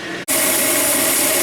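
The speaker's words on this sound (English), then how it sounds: "We're sawing. We're back in the cut." An old Famco horizontal bandsaw cuts through metal after a brief pause, starting up as a loud, steady, close whirring grind with a constant tone that runs to the end.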